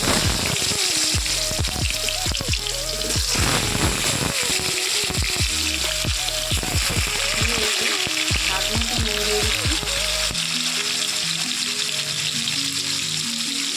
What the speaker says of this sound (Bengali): এবার আমি এতে মাংসের জন্য কাটা আলুগুলো